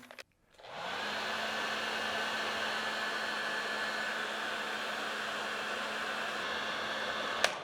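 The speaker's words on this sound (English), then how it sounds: "This is my dad's old heat gun." An old heat gun switches on after a brief click and blows hot air in a steady, loud, continuous whoosh with a low hum underneath, running unbroken to the end with no talking.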